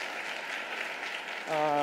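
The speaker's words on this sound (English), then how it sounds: "A round of applause." An audience at a 2017 State of the City Address claps for city staff, a short burst of moderate applause, before a voice cuts in over it at the end.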